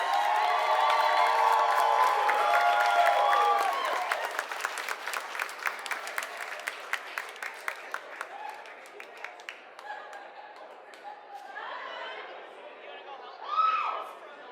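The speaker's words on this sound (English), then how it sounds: "Let's give all our contestants and our top 3 winners and judges a big round of applause." Crowd applause at a pin-up pageant at a vintage-themed Northern Roundup event, loud clapping over the host's amplified voice, then thinning to scattered individual claps and murmuring chatter, with a brief whoop near the end.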